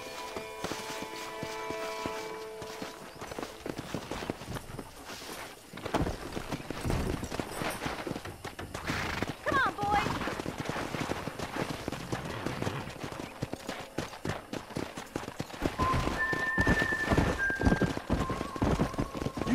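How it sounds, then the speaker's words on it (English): Wild horses in the Red Dead Redemption video game: a dense clatter of galloping hooves runs throughout, with high, whinnying neighs breaking through, loud and near, alongside faint background game sounds. "That ranch hand said there's a pack of wild horses nearby."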